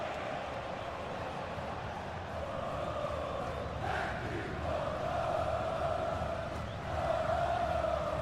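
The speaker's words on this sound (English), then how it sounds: "Well, just listen to this crowd." Crowd noise from a stadium in a football video game, a steady roar that swells and lifts in a few surges over a continuous wash of fans.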